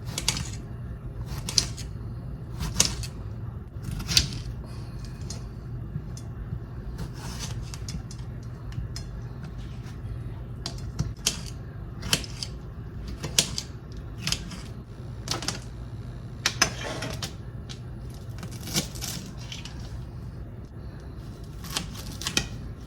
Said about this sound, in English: Right now I'm gonna cut up some tomatoes.